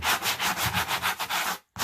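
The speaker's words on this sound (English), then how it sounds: "Go ahead and sand your surface just a little bit." Rhythmic back-and-forth sanding strokes rasp across a faux concrete pumpkin, about eight quick even passes, then a brief stop before another stroke begins.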